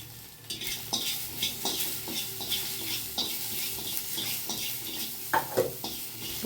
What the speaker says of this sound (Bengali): একটু তেঁতুল, কাঁচা না খাওয়া লাগে তাই এর মধ্যে একটুখানি ভেজে নিচ্ছি বন্ধুরা